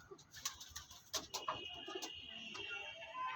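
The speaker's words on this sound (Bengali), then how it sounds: "এই দেখুন আমার বাড়ি হচ্ছে কালসিরা পায়রা" Andhra Kalsira pigeons coo in a loft, several soft rolling calls overlapping one another at close range, with faint chirps and rustling in between and no one talking.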